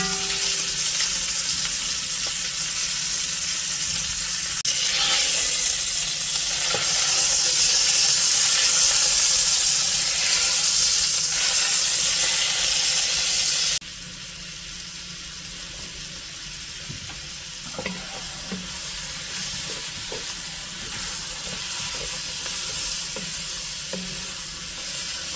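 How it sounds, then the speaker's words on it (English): Beef pot roast sears in a hot pan with a steady, close sizzle and hiss, interrupted by occasional scraping and pressing sounds; the sizzle drops in intensity partway through. "That's pretty good sear. Again, you want to press it down so it has a good contact."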